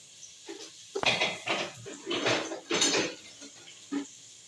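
Metal kitchen utensils clatter and clink as a turning spoon is picked from among pots and cutlery while cooking tomato stew, a string of close, uneven rattles and knocks with short pauses between.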